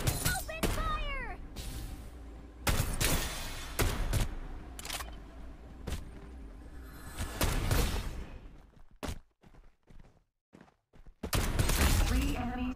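Bursts of rapid gunfire from the mobile battle-royale shooter Farlight 84, loud and close, firing in several volleys separated by brief gaps, with game voice lines sounding between them.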